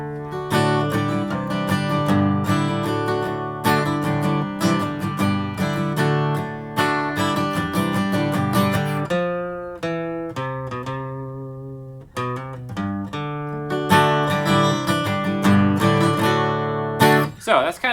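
Acoustic guitar playing the riff and chords of a song, close and clear, with rhythmic strummed and picked passages and brief pauses between phrases.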